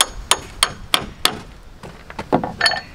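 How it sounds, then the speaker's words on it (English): A mini sledgehammer strikes anchor bolts on a self-built house, giving a series of sharp metallic blows, roughly evenly spaced at first, then quicker and softer, close and alone. "So I'm going to get my little mini sledgehammer."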